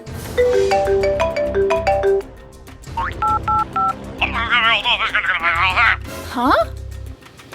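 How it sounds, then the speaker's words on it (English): A string of electronic phone tones beeps in steady sequence, followed by warbling trills like a ringtone, with brief voices mixed in. "So you think the phone ringing at that time was from the robber phone, not Samuel one?"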